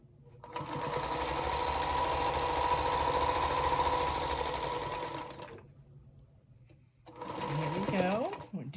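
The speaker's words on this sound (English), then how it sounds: "We're going to stitch right on one little thread hair past that point towards the inside of the seam." A sewing machine stitches a quilt seam a thread's width inside the marked point, a steady mechanical whir running for about five seconds, stopping, then starting again for a shorter burst.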